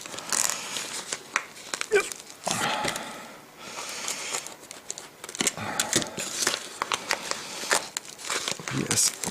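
Plastic and cardboard packaging of a large padlock parcel crinkles and scrapes as a side is carefully cut and pried open, in bursts of close, rustling handling sounds with brief pauses and occasional voice in between.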